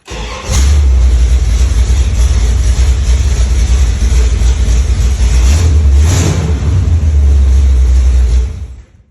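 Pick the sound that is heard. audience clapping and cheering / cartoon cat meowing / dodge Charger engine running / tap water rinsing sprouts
dodge Charger engine running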